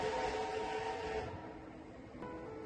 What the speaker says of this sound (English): This train is an historic World War I steam locomotive.